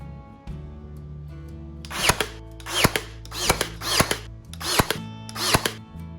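A power drill drives screws into a wooden table during assembly: six short, evenly spaced whirring bursts, loud and close, with quiet pauses between them and no talk.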